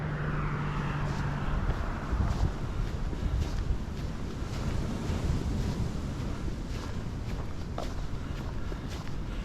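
Wind buffets the microphone on a seaside coastal path in Spain, with a steady broadband roar of waves and surf underneath, loud and continuous throughout.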